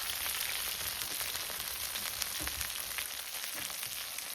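Chicken fries in hot, spattering oil for a village chicken-fry party, a faint, steady sizzle broken by scattered sharp pops and crackles, with no voices.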